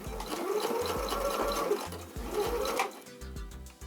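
A sewing machine stitches bar stool upholstery, finishing a seam with a lock stitch; a steady mechanical whirring runs close and fairly loud, pausing briefly near the end before resuming.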